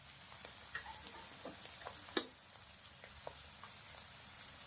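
Mushrooms sautéing in a pan for masala rice, a faint, even sizzle with scattered small pops and one sharp clink of a utensil partway through.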